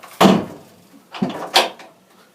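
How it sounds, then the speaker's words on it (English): A workshop door swings and closes with a sharp thump, followed by a lighter knock and a final latching clunk. "Let me shut the door here."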